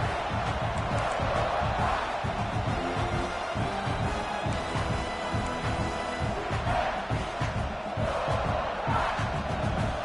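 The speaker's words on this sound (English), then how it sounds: "It's early, but this crowd is fired up. Listen to this noise here." A large college football stadium crowd roars continuously, a dense wall of cheering and yelling that swells slightly now and then and stays loud throughout.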